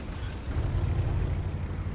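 Heavy, sustained low rumbling of Leopard tank cannon fire and engine roar in a video game, loud and continuous with no clear gaps between blasts.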